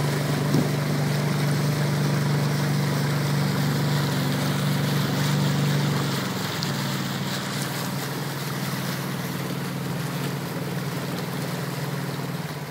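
A boat working through strong river waves in Thanchi, a steady loud engine drone mixed with rushing, churning water and wind, the engine tone dropping partway through while the water noise continues.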